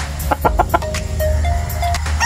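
Breeder chickens cluck close by in short, loud, repeated bursts, followed by a longer drawn-out call over a low steady background.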